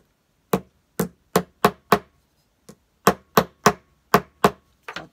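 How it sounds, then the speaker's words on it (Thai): A hammer knocks a towel hanger fitting into place: a series of sharp, evenly spaced hard strikes, loud and close, with short pauses between groups of blows and no voices. "ค้อนตีแล้วนะคะ"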